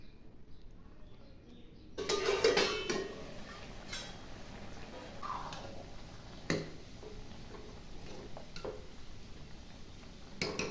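Fried vegetables are tipped into a pot of foxtail millet khichdi with a sudden onset of scraping and clinking spoon-on-metal sounds, followed by scattered light taps over a faint background hum, heard close with no voices.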